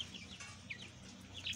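Soft clucking from a few small Creole-breed chickens, scattered short calls over a quiet farmyard background, fairly faint.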